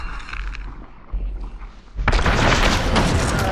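Heavy gunshot boom in the Western shooter Hunt: Showdown, a loud close blast that bursts out after a rumbling lead-in and rings on with dense reverberant noise.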